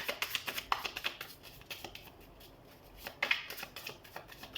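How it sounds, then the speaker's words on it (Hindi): A deck of tarot cards is shuffled by hand in quick, close, soft riffling bursts, pausing briefly midway before another flurry of rapid flicks. "तो कार्ड शफल कर लेते हैं."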